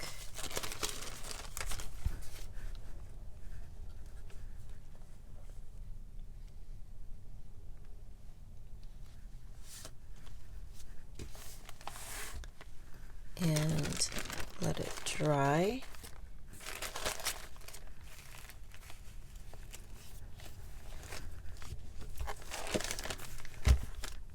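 Plastic sheet crinkling and crumpling in short bursts while a journal is being crafted, with a louder stretch of handling near the middle, set against quiet room noise and occasional low speech.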